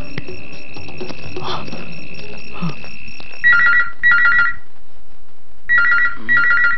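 A telephone rings at midnight, first a steady electronic tone, then four loud, close bursts of trilling rings separated by short pauses.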